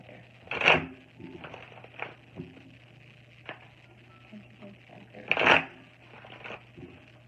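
Two bursts of riffling cards being shuffled, separated by soft handling taps and rustles, close and fairly quiet, with no talking.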